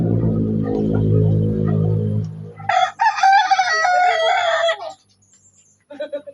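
A rooster crows loudly nearby in a long drawn-out call, followed by a brief pause and a short chicken clucking sound.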